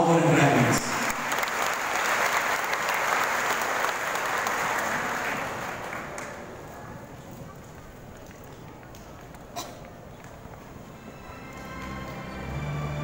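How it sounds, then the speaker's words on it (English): An audience applauds university graduates at a commencement ceremony, a loud, dense wash of clapping that gradually tapers to a softer patter, with brief clatter and faint voices near the end. "A resounding applause for our graduates."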